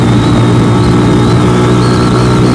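A DF250RTS / Venom X22R motorcycle revs hard at about 7,000 RPM in third gear on a road ride, a loud, steady, buzzing engine drone with a faint rising whine and rushing wind.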